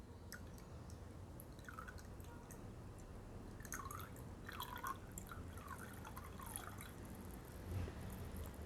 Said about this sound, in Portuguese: vai adicionar o cloro na água